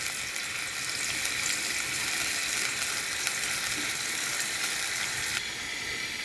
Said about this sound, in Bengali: এখন পেঁয়াজ কুচি দিয়ে দিলাম তেলের ভিতরে, আর রসুন কুচি আছে একসাথে দিয়ে দিলাম